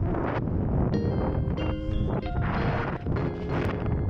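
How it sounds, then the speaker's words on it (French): Strong wind sweeping across open, slippery ground in Mongolia, a loud continuous roar buffeting the microphone with gusty surges and no voices. "Il y a tellement de vent et c'est tellement glissant que mon boîtier, quand je le pose, s'envole avec le vent."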